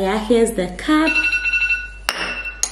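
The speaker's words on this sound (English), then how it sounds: "That's my alarm." A phone alarm rings with a steady, repeating electronic tone right after a voice speaks, with a brief clink of dishes or glass and short sharp knocks near the end.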